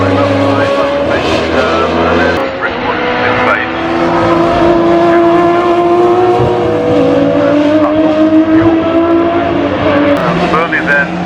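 Racing saloon cars accelerate hard past at a Gold Cup CSCC Special Saloons and Modsports race, engines roaring loud and continuous with rising pitch, tyres scrabbling, under a commentator's voice.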